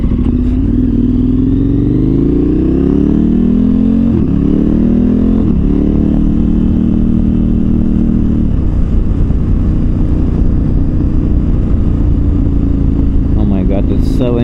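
A KTM 1290 Super Adventure R motorcycle engine revs and accelerates hard, its pitch climbing through several gear shifts, loud and close with steady wind noise throughout and a rider's voice in the background.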